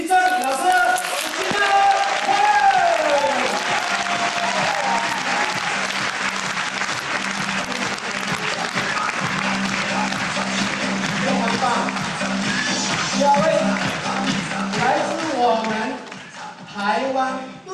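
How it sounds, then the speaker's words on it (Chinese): An audience at a diamond business seminar in Taipei breaks into sustained applause to welcome a speaker onto the stage, with dense steady clapping and music over it. The clapping thins out near the end. "接下来用大家的掌声欢迎"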